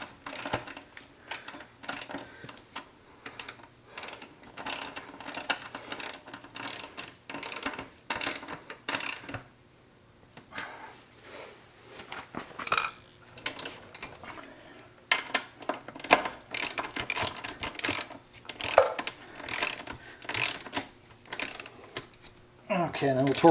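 A torque wrench tightens the rear axle nut on a Kawasaki Ninja 1000, giving rapid clicking ratchet strokes in bursts, with short pauses between runs, heard close up.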